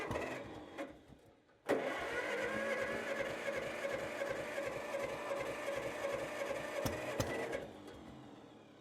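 An old 40 tractor engine cranks and catches, then runs at a steady, rough idle for about six seconds before easing off, close and fairly loud.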